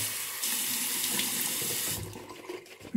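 Water runs steadily from a tap, splashing into a basin, then tapers off near the end.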